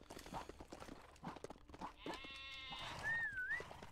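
A sheep in the Lego Worlds video game gives a wavering, drawn-out bleat near the end, following a run of light clattering game sounds at moderate volume.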